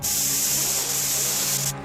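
Cartoon aerosol can of novelty Smog in a Can sprays in one steady, loud continuous hiss that lasts nearly two seconds and then cuts off abruptly.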